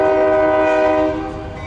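A freight train's horn blares loud and close in a single sustained chord, then fades slightly as the train rumbles past, with no talking over it.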